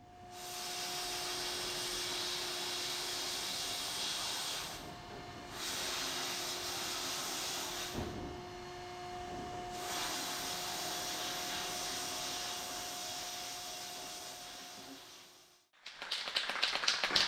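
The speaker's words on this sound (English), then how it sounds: "we'll take it over to the bead blast cabinet, clean it up, sandblast it, get all the rust off of it." Bead blast cabinet sandblasting rust off a steel quarter panel from a 1959 VW Beetle ragtop, a steady loud hiss of blasting media lasting about fifteen seconds with brief dips as the nozzle pauses, then cutting off abruptly.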